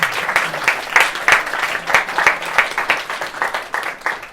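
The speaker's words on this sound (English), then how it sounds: "A big applause, please." An audience at a language-learning panel discussion at Expolingua 2019 applauds the guests with a lively, close round of clapping that holds strong throughout and has no talk over it.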